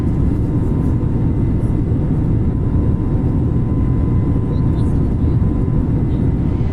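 A Volaris Airbus A320neo takes off out of Mexico City and climbs in Microsoft Flight Simulator, a loud, steady low engine roar filling the whole stretch with no change in intensity.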